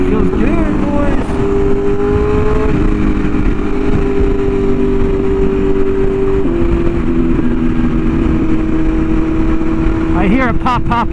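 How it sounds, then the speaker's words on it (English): A motorcycle engine drones steadily and loudly from up close while ridden, with brief crackling pops from the exhaust behind the rider near the end. "I can't believe I could hear my bike popping behind me."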